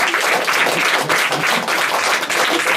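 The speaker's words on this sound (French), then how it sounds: "Donc je vous demande d'applaudir très très fort Gabriel." Loud, continuous applause from an audience in a class in Aix-en-Provence for a student named Gabriel, with many hands clapping close by in an even, unbroken roar.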